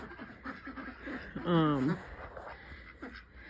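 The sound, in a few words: ducks quacking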